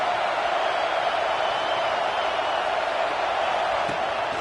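A stadium crowd in the College Football 26 video game produces a steady, loud wash of broad roaring noise that holds evenly throughout with no distinct voices.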